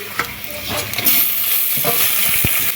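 Chopped tomatoes go into lightly fried chopped onions with whole cumin in oil, bringing a loud close sizzle broken by soft clinks and scrapes of stirring.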